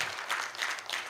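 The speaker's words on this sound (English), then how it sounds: "First of all, give Uwec a big round of applause." Short burst of steady audience applause in a room during a 70th anniversary celebration for UWEC.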